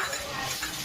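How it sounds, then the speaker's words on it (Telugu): Chopped onion, ginger and garlic frying in oil in a pan for prawn and egg biryani, a soft continuous sizzle with faint stirring ticks, close and fairly quiet. "కొంచెం పచ్చివాసన పోయే వరకు వేగనివ్వాలి"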